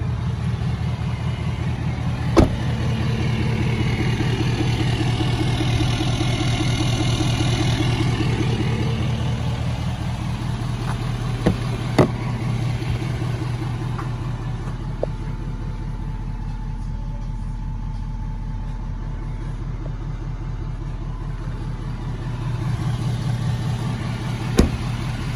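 A 2018 Ford F-250 pickup with the 6.7-litre diesel idles in a steady, low rumble close by, broken by a few sharp clicks.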